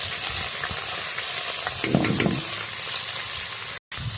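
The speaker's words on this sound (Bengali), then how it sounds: "কড়াই গরম হয়ে গেছে দিয়ে দিলাম তেল তেল গরম হয়ে গেছে দিয়ে দেবো চিংড়ি মাছ" Prawns sizzle loudly in hot oil in a heated wok, a dense continuous frying hiss with a brief burst of stirring clatter midway and a short dropout near the end.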